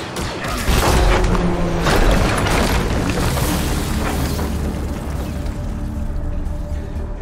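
Heavy weapon fire and explosions in the video game Star Wars Jedi: Survivor, a loud sustained rumbling boom with thuds running the whole length, dense and close with no talk.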